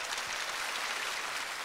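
Audience applause at an outdoor televised singing contest in Yeoncheon, Gyeonggi-do: a steady wash of many hands clapping together, fairly faint and distant, with no voices over it.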